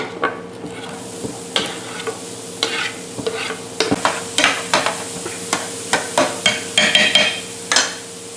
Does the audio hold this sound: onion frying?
yes